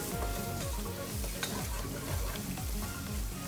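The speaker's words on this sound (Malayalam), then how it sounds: "ഈ പൊടിയുടെ പച്ചമണമൊക്കെ പോകുന്നിടം വരെ നമുക്കൊന്ന് ഇളക്കി കൊടുക്കാം." Spice powders (turmeric, garam masala, cumin) frying in a pan for fish biryani, a dense continuous sizzle with regular stirring strokes repeating throughout.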